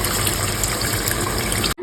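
Two glasses of water gush loudly and continuously into a cooking pot of tamarind seer fish stew, then cut off abruptly near the end.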